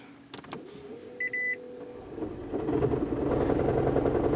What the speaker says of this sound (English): You hear that noise? That's what happens when a Prius misfires.